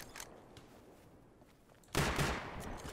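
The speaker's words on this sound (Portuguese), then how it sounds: "Calma aí que eles estão atirando aqui." Gunfire in the video game Rust, with quiet scattered shots early on, then a loud burst of firing that starts about two thirds of the way through and keeps going to the end.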